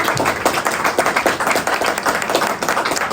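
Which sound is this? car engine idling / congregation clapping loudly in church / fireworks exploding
congregation clapping loudly in church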